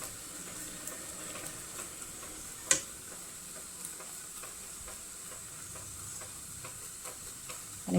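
A bread omelette cooks on its second side in a pan with a faint, low sizzle, broken by quiet ticking scrapes and one sharp clink of a utensil.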